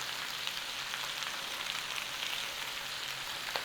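Cabbage and bacon frying together in a single pan, a steady close hiss and crackle of sizzling fat running evenly throughout with small pops, no voices.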